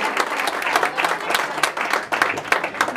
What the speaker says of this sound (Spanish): Fuerte ese aplauso que se escucha en la neta